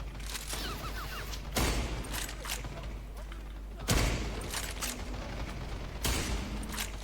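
Bursts of automatic gunfire in the online shooter Quay Truy Kich repeat every couple of seconds over a busy game soundscape, loud and sharp with rapid rattling between the heavier shots.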